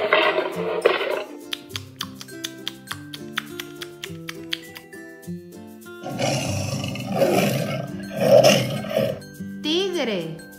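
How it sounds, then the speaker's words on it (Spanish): A lion roars in a cartoon savanna animal song for children, a rough burst rising over bouncy music near the end, after a voice speaks. "León."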